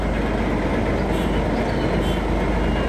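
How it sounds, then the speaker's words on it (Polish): The engine of a river ferry crossing in Vietnam's Mekong Delta runs in its engine room, a loud, steady mechanical rumble that drones on without change and with no talk over it. "A tutaj maszynownia i silnik pracuje."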